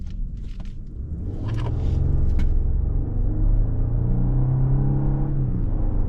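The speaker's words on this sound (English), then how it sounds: "Get a nice noise out of the engine when you take off under load." A 2024 Genesis GV80 3.5T AWD turbocharged engine rumbles low, then swells into a steady, rising growl as the SUV pulls away under load and accelerates, with a faint whir under the roar.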